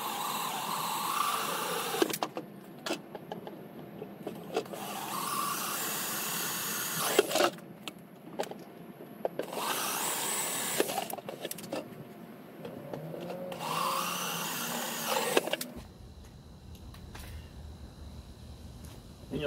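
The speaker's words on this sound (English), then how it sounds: "I'm gonna go ahead and put my 3-inch hole saw on here. I'm gonna drill out each hole" A power drill fitted with a 3-inch hole saw cuts holes through a plastic bucket, several whining, grinding bursts separated by short pauses, each lasting a couple of seconds, with a different low hum at the end.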